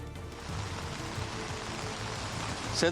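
Steady, soft rain hisses evenly throughout in Kozhikode, a gentle wash of drops with no voices.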